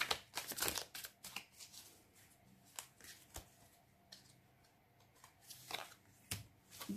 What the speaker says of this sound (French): quand je brasse les cartes et que je fais mes tas